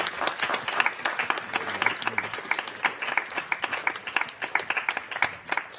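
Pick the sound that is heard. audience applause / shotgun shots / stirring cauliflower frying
audience applause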